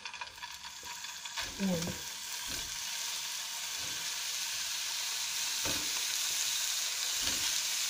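Pork pieces for adobo frying in a pan, a steady loud sizzle with occasional stirring scrapes and spatters, close up, with a brief spoken word early on.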